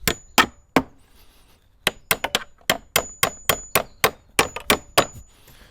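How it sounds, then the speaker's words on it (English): A hammer taps a bolt through a timber door lintel, a few spaced strikes followed by a quicker run of ringing clanks, close and clear. "we will just tap our bolt all the way through with the hammer"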